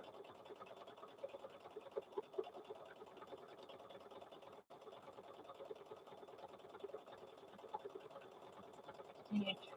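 Quiet, steady buzzing of a sewing machine stitching a thick pot holder, running continuously at low volume with a brief pause midway and a small clunk at the end.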